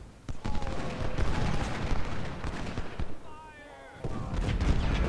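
Dense Civil War battle din in Ultimate General: Civil War, with 10-pounder cannons and skirmisher rifle fire rumbling continuously, thumps and crackles layered beneath a speaking voice.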